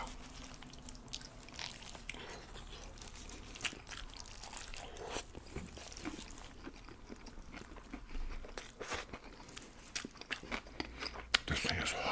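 Bites and chewing on a Fatburger Triple King burger piled with meat, lettuce, tomato and pickles, soft crunchy munching close to the mic with intermittent louder bites toward the end.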